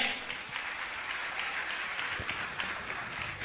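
An audience at a Jain religious gathering claps steadily and continuously in honour of donors and trustees, a dense, even sheet of applause at moderate volume with no voices on top.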